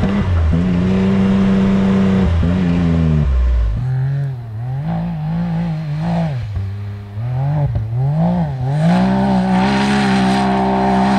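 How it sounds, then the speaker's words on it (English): A Can-Am Maverick X3 side-by-side revs hard near the microphone, pitch climbing and falling as it accelerates. Crackling backfires pop between revs, loud and close, with no voices. "Dang, she's backfiring a lot."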